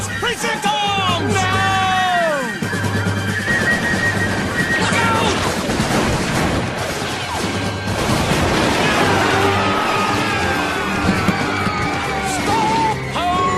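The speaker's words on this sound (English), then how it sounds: "Tom, we're being shot at!" Musket fire crackles through an animated Revolutionary War skirmish at Lexington, with scattered loud cracks and bursts over a steady low drone, while excited voices yell and whoop throughout the chaotic, continuous din.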